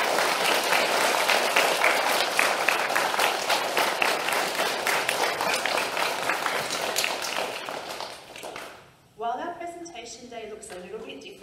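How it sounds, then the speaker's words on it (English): Children at a 2020 school presentation day applaud their teachers, a loud, sustained round of clapping from a crowd of young pupils that fades out near the end before a speaker resumes talking. "can you join me in giving our teachers a special round of applause for all of them?"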